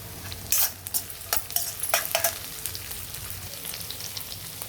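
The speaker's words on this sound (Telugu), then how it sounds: "ఇదిగోండి ఉల్లిపాయలు వేగేవి" Onions fry in a pan for a pea curry served with puri, giving a soft background sizzle broken by several sharp scrapes and clinks of a spoon against the pan, close by and with no talk.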